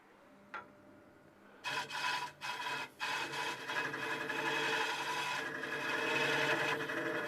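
A ProForme hollowing tool cuts continuous wood shavings, giving a steady close rasping, hissing scrape that starts with a few short strokes and then runs unbroken, slowly growing louder.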